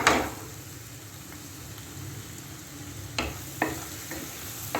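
Ginger paste, ground cumin, Kashmiri and regular chili powder, turmeric and a little sugar frying in oil, a quiet steady sizzle broken by a few sharp scrapes and taps of a spoon stirring the pan.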